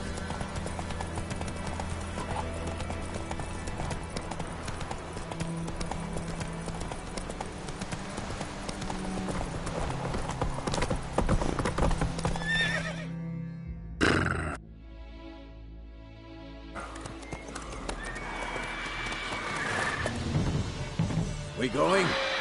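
A horse gallops with rhythmic clip-clop hoofbeats in The Witcher 3 on PS4, with a voice speaking over it. The hooves drop out briefly, then the action sounds resume.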